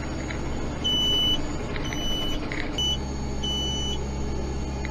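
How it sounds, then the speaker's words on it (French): Repeated short electronic beeps from a seed drill's low-seed hopper sensor on a tractor sowing ryegrass, four or so evenly spaced tones over a steady engine drone. "Donc là ça bip, c'est mon capteur de fin de trémie."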